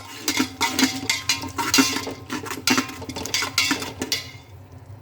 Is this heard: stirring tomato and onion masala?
yes